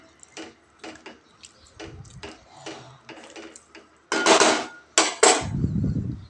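A spatula stirs salt into a spring onion stir-fry in a pan, giving a series of close, irregular scrapes and clicks that turn into a louder, sustained scraping run near the end.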